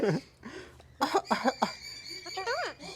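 A child coughs a few times in quick bursts, mixed in with an adult speaking nearby.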